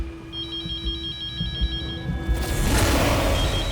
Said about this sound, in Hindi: ये फोन की घंटी तो यहीं से सुनाई दे रही थी कहीं।